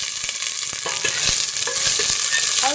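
Raisins fry with cinnamon, cardamom and cloves in a pan for pulao, giving a steady close sizzle with light stirring scrapes throughout, no talk.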